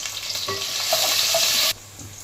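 Sliced onions and whole green chillies frying in hot oil for chicken biryani, a loud steady sizzle that cuts off abruptly near the end, leaving a quieter hiss.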